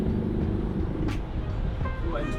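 A 1962 Porsche 356 1600 with an air-cooled four-cylinder engine drives along, a steady low engine drone from inside the car with a brief faint whistle-like squeal near the end.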